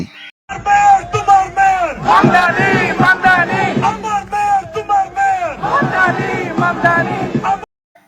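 A crowd at a Zohran Mamdani campaign stop in a Bengali-speaking neighbourhood chants slogans in Bengali, loud massed voices in rhythmic unison phrases with brief pauses between.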